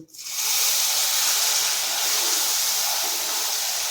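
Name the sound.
hot milk poured into roasted semolina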